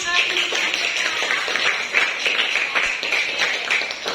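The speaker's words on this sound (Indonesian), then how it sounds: "Tepuk tangan untuk Anda yang" Classroom applause after a group presentation of homework, a steady patter of many hands clapping at close range that fills the whole stretch with an even, dense texture.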